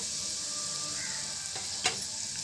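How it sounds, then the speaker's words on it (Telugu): Grated coconut frying in hot oil with ginger garlic paste for coconut milk rice, a steady close sizzle with a brief louder crackle near the end, no voices. "ఇప్పుడు మనం కొబ్బరి తురుముని యాడ్ చేసుకుందాం దీంట్లో."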